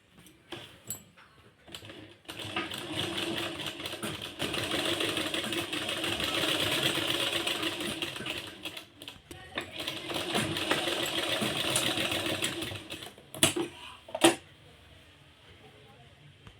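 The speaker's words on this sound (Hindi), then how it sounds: "इस तरीके से आप निशान लगा के अब इस पर सिलाई मार दीजिए।" A sewing machine stitches along marked lines on palazzo pants, running in two sustained bursts of steady mechanical whirring with a short pause between, then falling quiet with a few clicks near the end.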